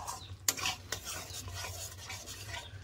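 Spice paste for a pointed gourd curry is stirred and fried in a pan, with repeated scraping strokes of a spoon against the metal, a sharp knock early on and a soft sizzle underneath, close and without talk.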